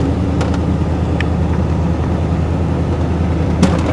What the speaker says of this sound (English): Fully on the throttle now.